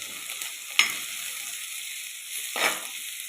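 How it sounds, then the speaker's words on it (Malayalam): Green chillies and curry leaves sauté in a pan with a faint, steady sizzle, broken by two brief scraping stirs of a spatula. "എല്ലാം കൂടി ഒന്ന് വഴറ്റിയെടുക്കാം"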